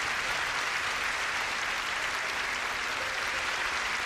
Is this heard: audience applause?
yes